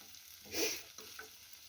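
Potato pancake dough for a large deruny fries in a pan with a soft sizzle, and one brief swell of louder hiss is followed by a couple of faint scrapes, heard close and quiet.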